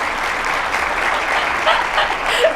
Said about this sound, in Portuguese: uma salva de palmas para o André